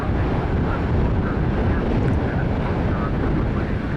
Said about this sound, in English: American 737 MAX 8 taking off on runway 24.